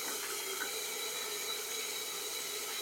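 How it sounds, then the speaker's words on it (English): Cold tap water runs steadily as a Pilsner beer glass is given a quick rinse, a continuous hissing splash with no pauses and no talk. "Give my glass a quick cold water rinse."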